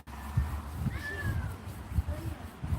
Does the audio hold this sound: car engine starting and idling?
no